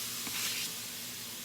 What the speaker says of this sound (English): I'm going to go ahead and add my pepper and onions to the pan